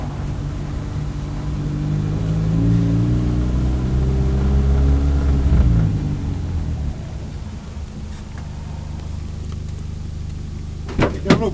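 A Ford Fiesta engine revs while driving, a loud, steady low drone rising in pitch through a gear, then dropping to a calmer hum with a few knocks near the end.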